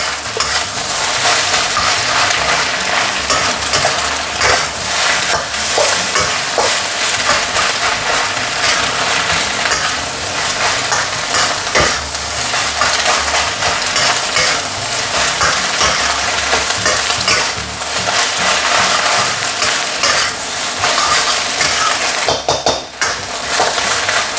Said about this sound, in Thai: แล้วก็คั่วมันไปเรื่อยๆก่อนนะครับ อันนี้ใช้ไฟแรงไปเลยนะครับ